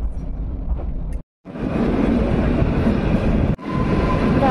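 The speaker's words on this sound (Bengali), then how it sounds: "রাতের আধার চিড়ে চলেছে টয় ট্রেন" A Himachal toy train rolls through the mountains at night, its steady rumbling wheel noise close and continuous, broken by a brief silent gap and a short dip before the loud running sound resumes.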